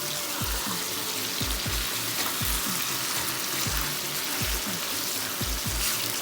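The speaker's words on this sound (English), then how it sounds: "I'm gonna stir it around" Rotel dip sizzles and fries steadily in a pan while a spoon stirs it, giving regular low scraping thumps roughly every half second over a constant bubbling hiss.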